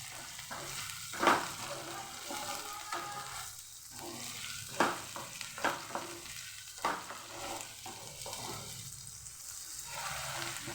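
Ginger-garlic paste sautés in a pan for a Kathiyawadi besan bhurji, with a steady sizzle and a few sharp spoon-stirring scrapes and clatters, close and alone.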